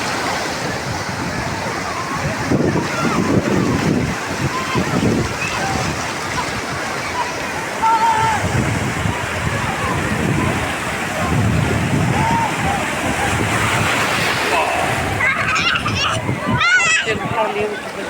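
Sea waves break on the shore in continuous rushing, sloshing surges while a person talks over them for most of the stretch.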